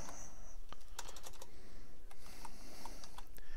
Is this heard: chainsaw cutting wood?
no